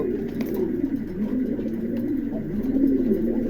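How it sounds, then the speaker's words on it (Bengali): A pair of young pigeons at a pigeon sale coo softly and repeatedly in low, throaty rolling calls, close by with a faint background hum. "খুবই চমৎকার এক জোড়া কবুতর আছে।"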